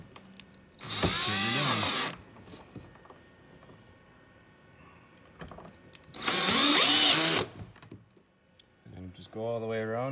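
A power driver spins a socket to tighten nuts onto screws of an 8-inch circle hatch on a Lightning Kayaks Strike, two loud whirring bursts of about a second each separated by quiet clicks, with talking near the end.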